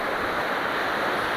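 Ocean waves wash onto the beach in a steady, close rush of surf and foam, with no voices, while an elderly mother fishes from the shore.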